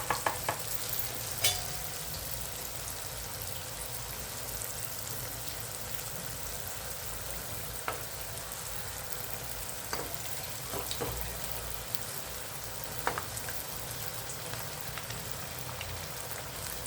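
Rice flour fritters deep frying in hot oil over a low flame give a long, even bubbling sizzle, like steady rain, with scattered sharper pops and crackles throughout and no voices.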